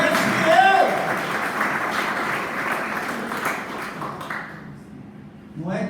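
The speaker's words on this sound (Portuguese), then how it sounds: "eu daria uma salva de palmas para o Senhor" A church congregation breaks into applause for the Lord, a loud burst of clapping that gradually thins and fades over several seconds, with a voice speaking over it.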